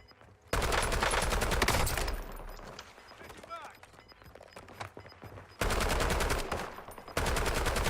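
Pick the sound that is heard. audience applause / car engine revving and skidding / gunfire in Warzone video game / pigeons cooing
gunfire in Warzone video game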